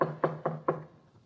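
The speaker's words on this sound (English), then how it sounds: "is ushered upstairs to his room and told to knock on the door." Four quick knocks land on a door in a steady rhythm, close and solid, then fade into quiet with no voices.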